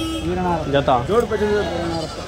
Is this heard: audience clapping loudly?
no